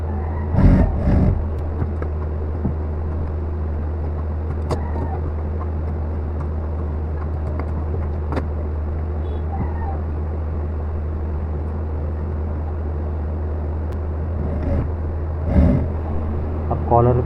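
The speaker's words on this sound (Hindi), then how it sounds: "दूसरे पॉइंट पे भी उसी तरह धागा लगा के सिलाई कर ले" A sewing machine stitching a gent's shirt, running as a steady low motor drone throughout with brief louder knocks and a voice now and then.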